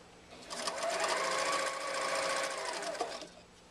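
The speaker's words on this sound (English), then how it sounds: "I'm going to go ahead and go across and stitch." A sewing machine stitches a seam on a zippered wallet in one continuous burst of rapid stitching, close by, then slows and stops.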